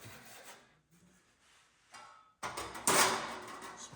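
A plastic plumbing pipe saw cutting through foam for a camper build, with quiet scraping at first, then louder, coarse rasping strokes near the end.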